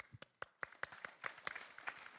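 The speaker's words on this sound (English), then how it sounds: "Give him a round of applause" A small conference audience at a summit gives faint, sparse applause for a questioner, about a dozen distinct claps spaced irregularly, sounding quiet and a little distant.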